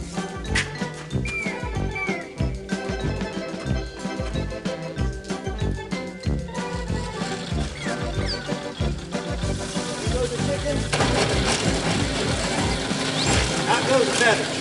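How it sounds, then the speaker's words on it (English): A chicken plucker machine runs with a loud, steady mechanical churning and rattling, overlaid with dense rhythmic clatter and a voice-like layer throughout. "Next place we go is to the chicken plucker."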